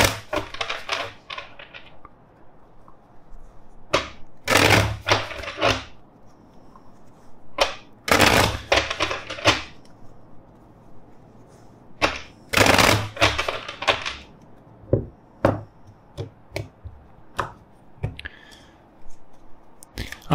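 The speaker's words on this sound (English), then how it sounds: "let's shuffle the deck" Bursts of tarot cards being riffled and shuffled, several separate flurries of rapid fluttering clicks with quiet gaps between them, close by.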